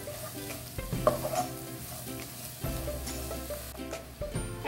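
Collard greens are stirred into a sizzling pan of pork crackling and bean mixture for feijão tropeiro, with close frying hiss and repeated scraping stirs of a spoon, no voices.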